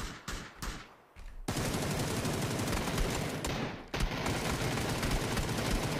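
Rapid bursts of SLR rifle fire in the PUBG video game, loud and sharp, with a brief pause before a sustained stream of shots fills the rest of the clip.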